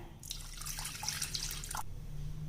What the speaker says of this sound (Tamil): இப்போ நம்ம பருப்பு தண்ணி இதில் சேர்த்துடலாங்க.